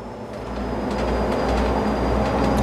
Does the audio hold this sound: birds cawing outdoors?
no